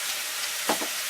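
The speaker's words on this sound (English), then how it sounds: "It's starting to sound as though it's frying a bit too hard." Cloves and spices fry in a pan for a Scottish stifado, giving a soft, steady sizzle with a brief louder crackle midway.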